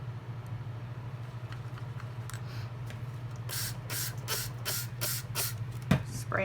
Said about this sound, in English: Spray enough water in there and just stir and keep stirring.